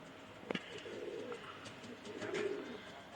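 A pigeon coos softly, low and murmuring, with a brief flutter or tap near the start and quiet ambient noise.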